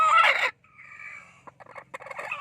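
Native chickens in a coop with a brooding hen, giving a short loud burst of fowl calls followed by softer clucks and scattered scratching and shuffling close by, with no talk.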